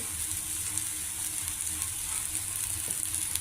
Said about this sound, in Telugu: అరటికాయ ముక్కలు కూడా ఫ్రై అవుతుంది.